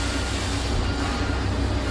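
A factory rail train works nearby during rain, a continuous loud mechanical rumble and roar with no breaks over two seconds.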